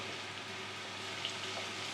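Chopped tomato goes into softened, lightly browned onions frying over a low flame, giving a steady, gentle sizzle with faint stirring and no talk.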